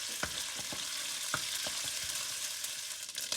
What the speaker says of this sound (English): Now we add the oil into the hot pan. And then we add the dry shrimp.